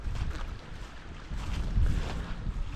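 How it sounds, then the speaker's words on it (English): Wind gusts by a Scottish loch, a rough low rumble buffeting the microphone and rising and falling in loudness, with no voices. "the wind picks up when you get down here"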